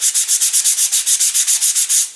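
Steady back-and-forth strokes of hand sanding model rocket fins, about fourteen even rasping passes in quick rhythm, close and clear with no voices.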